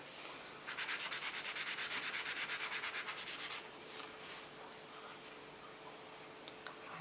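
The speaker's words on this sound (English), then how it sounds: "I'm going to sand this one a little bit more." Close, quiet sanding of a metal clay hinge: about three seconds of rapid rhythmic back-and-forth scratching strokes, then faint occasional handling noises.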